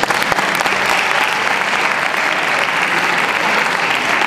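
An audience at a youth gala of songs set to Machado's poetry applauds the performers, a loud, dense and even roar of clapping that continues without a break from start to finish.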